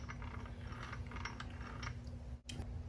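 Gears in a Suzuki LT500 ATV transmission ratchet and click as it is shifted into gear, a soft, rapid mechanical clicking close by, ending in a sharper clunk.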